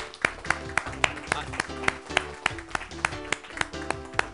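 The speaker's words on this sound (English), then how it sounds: "Round of applause." An audience at a middle school Science Bowl awards ceremony claps for a plaque presentation, with a fairly loud, rhythmic run of hand claps that sounds like only a few people clapping, up close.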